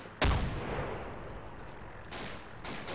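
A frag grenade detonates with a sharp, loud blast, followed by a rumbling tail. Two more heavy bangs of gunfire land a couple of seconds later, with no speech over them.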